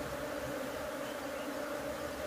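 Honeybees hum in a steady, dense drone from an opened hive of a strong, crowded colony, a continuous buzz at low level throughout with no other sounds.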